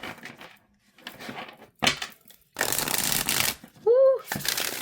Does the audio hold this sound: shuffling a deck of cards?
yes